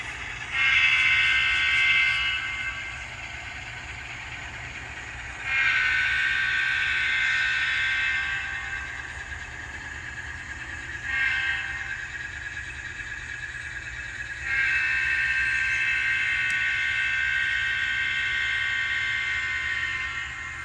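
An N scale high-hood Alco model locomotive with ESU Loksound sound runs on a layout, its diesel engine sound rising and falling in four sustained surges with a steady low hum between, no talk.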